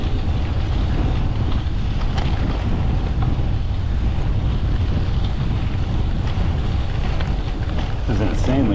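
Strong wind buffets the microphone on an exposed stretch of South Jersey sand during a gravel bike ride, a steady, heavy low roar throughout, with a few faint voices underneath.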